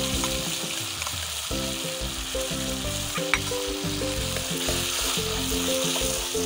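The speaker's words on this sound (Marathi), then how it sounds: "याच्यामध्ये आपण आता टाकूया कांद्याची पेस्ट," Onion paste sautés in tomato puree for malai chicken, a loud, continuous sizzle and crackle that runs unbroken from start to finish over a low steady hum, with no voices.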